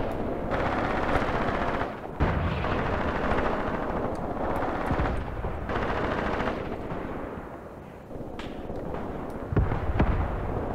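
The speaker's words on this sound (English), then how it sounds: "This enemy mortar back here is being fired upon by our machine gun" Sustained machine gun fire rattles in the Graviteam Tactics wargame, dense overlapping bursts with scattered louder cracks and booms across the whole stretch, a busy battlefield din with no talking.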